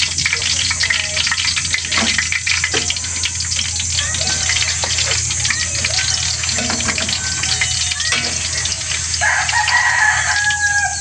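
Loud, steady sizzling of squid frying in hot oil fills the whole clip, with occasional clatters and crackles rising above the hiss.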